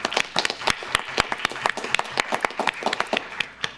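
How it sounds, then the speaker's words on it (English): Sparse applause breaks out at a school board regular meeting, with individual claps sounding sharp and distinct against a quiet room, a modest group clapping steadily for a few seconds. "Can we please give her a round of applause?"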